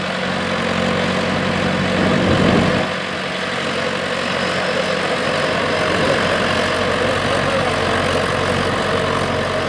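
John Deere 4WD tractor idling during corn planting with Kinze 24-row planters, a steady low diesel rumble close by, with a brief louder surge near the start before settling into an even drone.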